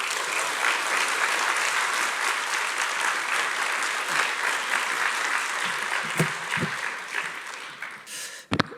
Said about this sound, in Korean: 우리 형제님 나오실 때 박수로 환영해 주시면 감사하겠습니다.